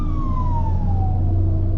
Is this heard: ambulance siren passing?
yes